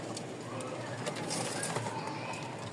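Pigeons at a Bangladeshi loft selling fancy breeds such as Rajshahi flying tumblers, cooing and fluttering close by in a steady, busy background of wings and small scuffles, with no talk over them.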